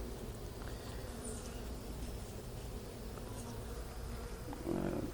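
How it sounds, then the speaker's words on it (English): A honeybee buzzes near an open hive during a routine inspection of the honey super and brood box, a faint steady drone over constant outdoor noise, swelling briefly louder near the end. "there's a bee buzzing there"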